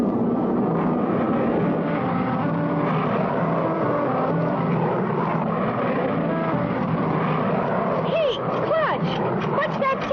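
A cartoon airplane engine drones loud and steady for several seconds, a constant rumbling hum with voices briefly heard toward the end.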